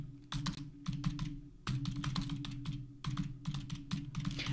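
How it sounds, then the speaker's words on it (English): Someone types on a computer keyboard, bursts of rapid close key clicks in short runs with brief pauses between them, over a faint low background hum. "sorry about my typing. I'm not the best at typing."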